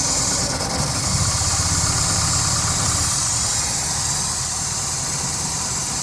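A Standard Vanguard Phase 1 car engine runs steadily at idle with a rough, continuous rumble, close and fairly loud, with no talk over it.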